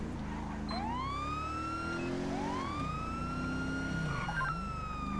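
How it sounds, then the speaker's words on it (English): A police siren in the video game GTA 5 wails, rising and falling twice over a steady rumbling background, sounding moderately distant. "then I heard the siren"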